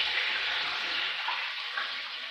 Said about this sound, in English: I'm going to use this beef broth, pour it in, and then stir it up